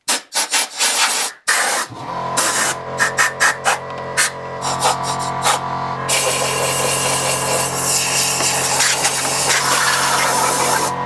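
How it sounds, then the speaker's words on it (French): Old silicone scraped off the gasket surface of a Peugeot 205 TU3 engine: rhythmic rasping strokes at first, then a continuous dense scraping and grinding close up, with no talk. "Alors nettoyage du plan de joint, le vieux silicone il dégage"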